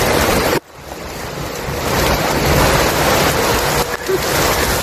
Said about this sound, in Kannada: ನೋಡ್ಬೋದು ಮಳೆ ಬರ್ತಾ ಇದೆ